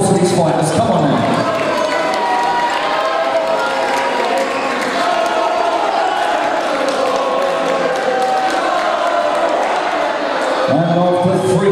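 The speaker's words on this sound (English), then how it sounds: "Let's have a round of applause for these fighters." At a Grind House boxing bout, the audience applauds and cheers the fighters after the bout, a dense, sustained wash of crowd noise with someone speaking over it.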